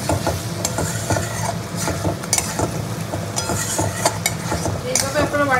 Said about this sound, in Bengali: মশলাটা কষার সময় একবারে আলুটা দিয়েই মশলাটা কষালাম